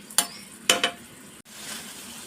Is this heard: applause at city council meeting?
no